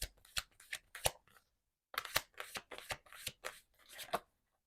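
Tarot cards are drawn and shuffled in a steady run of crisp riffles and slaps, close and fairly quiet, with a short pause partway through and no talking.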